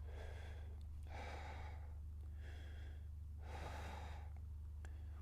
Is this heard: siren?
no